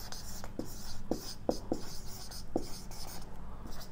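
Chalk or a marker writing on a board makes a series of short scratchy strokes, five or six distinct scrapes spaced irregularly, fairly close against a soft room background.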